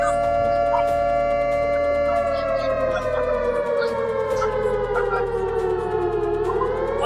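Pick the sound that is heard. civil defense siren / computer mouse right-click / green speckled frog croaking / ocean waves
civil defense siren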